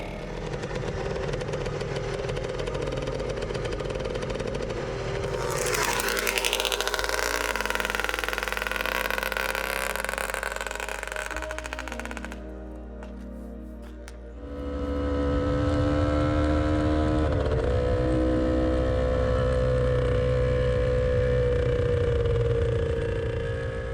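A 1968 Husqvarna Viking 360cc two-stroke motorcycle engine runs loud and close, revving up and down with a buzzy rasp, dipping briefly to a lower idle before roaring back.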